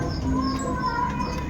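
Soft cooing of racing pigeons at a fancier's loft, faint and steady against a low background hum, with no speech.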